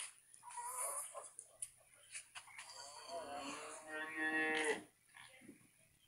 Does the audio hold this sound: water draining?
no